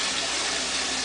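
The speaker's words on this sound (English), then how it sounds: "Take the sprayer, stick the sprayer in there. I like to run sprayer." Water from a sprayer gushes steadily into a brewing fermenter of turbo yeast wash, a loud, continuous broadband hiss with no pauses.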